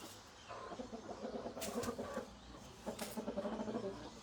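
Chickens cluck and squawk at a house in Cameroon, with two louder bursts of clucking over a constant noisy outdoor background, fairly faint and distant.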